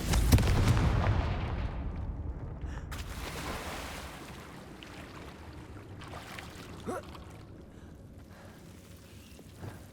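Confringo spell blast in the Hogwarts Legacy video game: a heavy boom at the start rolls off into a fading rumble, followed by a few softer impacts and low ambient noise.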